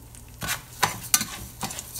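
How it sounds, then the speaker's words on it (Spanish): Rice browning in a little hot oil in a pan for Spanish rice, with a low, steady sizzle broken by several sharp scraping strokes of a spoon stirring it, close and clear, with no voices. "Con esto se te dora perfectamente tu arroz."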